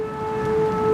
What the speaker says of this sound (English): The sounds you're hearing are because of impending tornadoes. Storm warning.